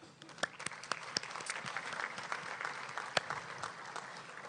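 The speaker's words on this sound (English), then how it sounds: "So let's give them a big round of applause." Audience applause at a Chamber of Commerce monthly luncheon: a fairly faint, steady patter of many hands clapping from across a room, with a few sharper individual claps standing out over about four seconds.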